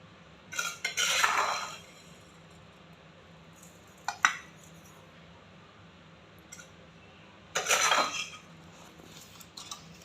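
Utensils stir and scrape as roasted rice powder is mixed into fermented shrimp, in three separate clinking bursts with quiet gaps between them.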